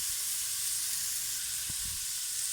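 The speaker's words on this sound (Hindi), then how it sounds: "अब मैं इसमें पानी ऐड करूंगी" Hot water going into a pot of soaked rice for carrot and pea white pulao, giving a steady bright sizzling hiss with a couple of low bubbling thumps, close and with no talk.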